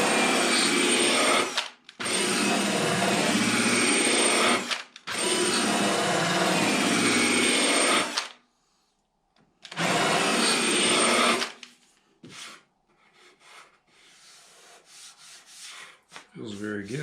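Rolling pin sander working a wooden guitar body to chase out saw marks: three loud, sustained gritty grinding passes with short pauses between, a fourth burst after a gap, then quiet handling noises.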